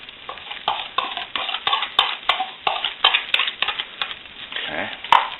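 A spoon stirs a mix into boiling gravy in a small cast iron pan, with repeated scraping knocks against the metal in an uneven rhythm and a light bubbling sizzle underneath, close and fairly loud.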